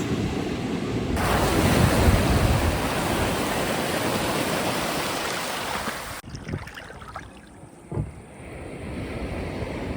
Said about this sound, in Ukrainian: ми прийшли на море